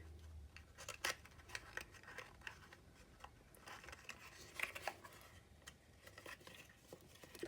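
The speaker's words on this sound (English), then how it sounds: "So just keep trimming" Scissors snip and trim paper for a tea light centrepiece, a quiet scattering of short, crisp cuts and rustles at an uneven pace, close by with no talking.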